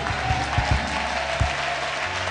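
Church congregation applauding at a French-language worship service, steady crowd clapping with a few louder accented claps, fairly close and continuous throughout.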